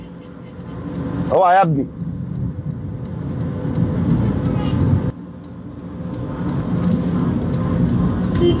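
A car driven with no engine oil while its oil warning light stays on, its low engine rumble running steadily throughout, with a brief loud horn-like tone near the start and people talking over it.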